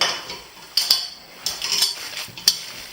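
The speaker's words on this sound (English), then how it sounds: "We want to get the hands in here. Mix it all together." Hands knead and squish a raw meatball mixture for Italian meatballs in a bowl, giving faint, close wet mixing with a few sharp clicks and taps scattered across it; no one speaks.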